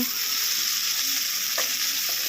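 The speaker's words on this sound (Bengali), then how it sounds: "এখানে পটলের সাথে নুন হলুদ একসাথে দিয়ে পটলগুলোকে ভেজে নেওয়া হবে" Pointed gourd pieces fry in a pan with salt and turmeric, giving a steady, close hiss of sizzling oil with a few faint scrapes, no voices.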